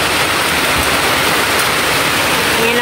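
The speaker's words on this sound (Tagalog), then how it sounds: "Ayan po yung ulan." Heavy rain pours down steadily outdoors, a loud, dense, unbroken hiss of falling water that fills the whole stretch without a pause.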